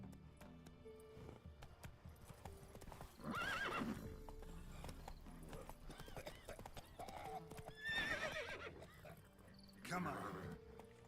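Hooves of a galloping horse in The Witcher 3 drum rapidly and steadily, with a few loud neighs rising over them. Faint background music runs underneath, and nobody speaks.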